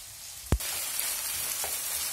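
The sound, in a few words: minced meat frying in a pan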